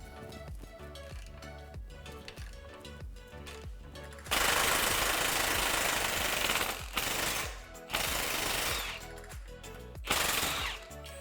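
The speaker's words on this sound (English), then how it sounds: "Using a 21mm socket, remove the lower track bar bolt." A rattling impact wrench with a 21mm socket removing the lower track bar bolt on a 2020 Jeep Gladiator, heard in loud sustained bursts between quieter mechanical clatter, close by.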